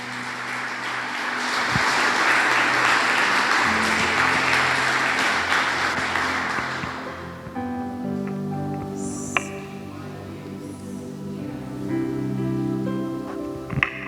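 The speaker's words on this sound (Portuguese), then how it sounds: "Aplauda o nome do Senhor." A church youth congregation applauds loudly for about seven seconds, the clapping broad and steady before it stops. Sustained tones of music and a few sharp taps follow.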